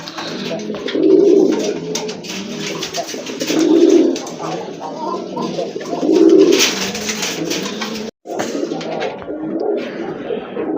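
Pigeons kept for sale coo nearby in three deep, rolling bursts spaced a couple of seconds apart, over a continuous murmur of other birds and background noise.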